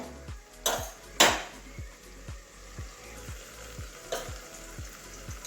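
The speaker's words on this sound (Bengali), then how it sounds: "তাও আর একটুখানি ভেজে নেবো আরও একটু ঢাকা দিয়ে দেবো আরও দু তিন মিনিট ঢাকা দিয়ে দিয়ে ভাজবো" Potatoes and cauliflower fry in a pan, a steady sizzle under repeated scraping and stirring strokes, with a few sharper metallic clinks of utensil against the pan, close and moderately loud.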